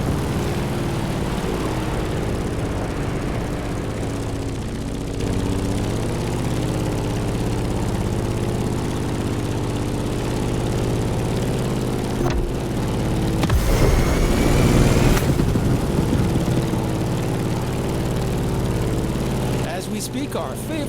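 A Grumman F8F Bearcat propeller fighter plane in The Crew Motorfest racing game holds a loud, steady, low engine drone with a rich hum. The engine swells briefly partway through, with no voices over it.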